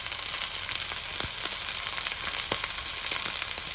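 A ribeye steak sears in a hot pan, giving a loud, steady sizzle with scattered crackles and pops throughout, heard alone without talk.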